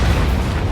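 A bunker buster bomb detonating in the jet combat game Ace Combat 7: a dense, sustained low rumbling roar, loud and continuous across the whole moment with no break or voice.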